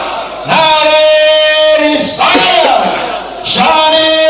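A crowd at a religious gathering shouts the response to a Nara-e-Takbir call, voices joined in loud, sustained chanting bursts that swell, dip and rise again.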